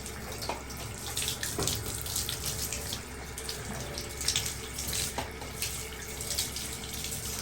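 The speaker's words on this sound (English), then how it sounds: "And turn the water on." Tap water runs steadily into a sink to soak the cooling pads of an Arctic Air Cooling Tower 2.0 portable air conditioner, a continuous close splashing gush with small bumps in flow and no talk.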